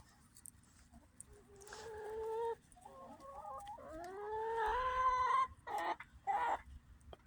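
Hens and a rooster from a flock of white birds and Brahmas cluck and squawk nearby in short bursts, with quiet pauses between calls.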